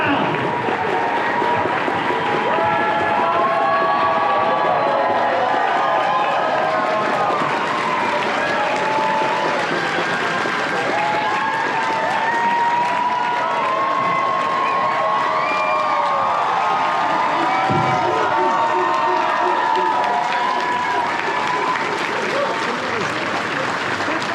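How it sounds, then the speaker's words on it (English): A convention panel crowd at MegaCon applauds and cheers continuously for the arrival of voice actors, with dense clapping, whoops and scattered shouts filling the hall at a loud, steady level. "One more round of applause."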